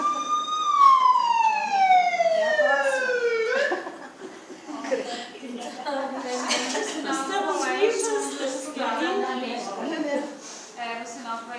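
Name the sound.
ambulance siren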